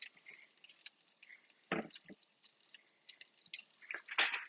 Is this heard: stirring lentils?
yes